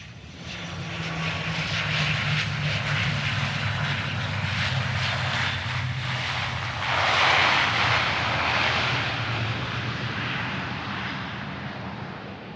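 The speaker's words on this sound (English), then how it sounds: "a passenger jet lands on a seemingly abandoned runway in the desert" A passenger jet landing on a seemingly abandoned desert runway, its steady engine roar loud and sustained throughout with a low rumbling drone and a brief swell of rushing noise midway, no voices present.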